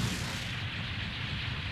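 Explosion effects from the Mega Man X4 video game, played on the X Collection, form a loud, continuous booming rumble that barely varies across the whole stretch.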